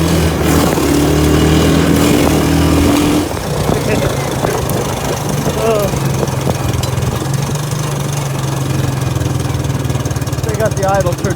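A Suzuki Quad Runner LT185 ATV engine running with its idle set a little too high, a loud, close, continuous buzzing drone that drops slightly in level after a few seconds and then holds steady.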